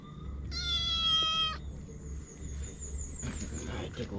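A cat gives one clear, drawn-out meow close by, followed by quieter rustling and a faint second call, in a home kitchen with low background hum.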